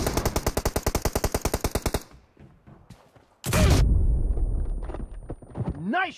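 Rapid automatic gunfire from a 4 vs 4 team deathmatch shooter video game, a loud rhythmic burst of about twenty shots over two seconds, followed by scattered game effects and a louder sustained noisy stretch.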